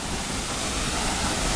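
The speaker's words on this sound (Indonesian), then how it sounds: "Itu dia. Air terjun Tanjung Asap." Tanjung Asap waterfall, about ten meters high, in Palakka village: a steady, dense roar of falling water fills the scene evenly from start to finish, with no voices.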